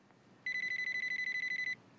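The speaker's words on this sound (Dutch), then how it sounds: "Het was de wekker van de oven, want je koekjes zijn klaar." A kitchen oven timer rings alone in a quiet room, a steady run of rapid bright electronic beeps lasting just over a second before it stops abruptly.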